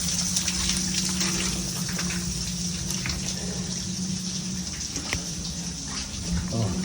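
A waterfall pours just behind a Cornish mine entrance, giving a loud, constant, close rushing gush of water with only faint, occasional human sounds underneath.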